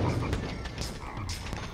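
Frog croaking from a frog barrel in the Whiplash video game, a short burst of repeated low croaks, close and loud over a busy game background.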